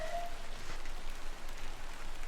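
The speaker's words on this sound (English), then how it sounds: "And it's raining again." Steady rain falling in the moorland village of Bewlay in the video game Incantamentum, a quiet continuous hiss of drops with no other sounds over it.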